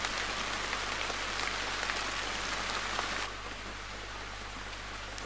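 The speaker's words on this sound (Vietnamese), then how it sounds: "Sáng nay một cơn mưa to ập đến." Heavy morning rain pouring steadily on a surface outside a rural house, a dense unbroken roar of drops that eases slightly in level partway through.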